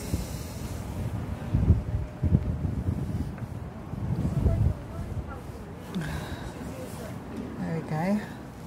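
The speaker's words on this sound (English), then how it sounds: "Gosh, it's so windy" Gusty wind buffets the microphone in low rumbling bursts at a creek, with indistinct speech and brief voiced sounds over it.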